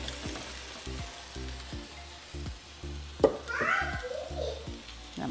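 Jasmine rice, cooked three-quarters done for restaurant-style fried rice, being gently stirred in a sizzling pan, a steady low sizzle with regular scraping strokes of a spoon and one sharp clatter partway through.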